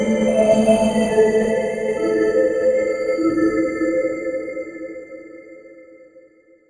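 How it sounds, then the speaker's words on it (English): An algorithmic reverb from the Abletunes RVRB plugin with its soft attack control rolled in, a sustained tonal wash that swells and then slowly decays into silence, with no voices over it. "turn the soft attack down and listen to the reverb that we have"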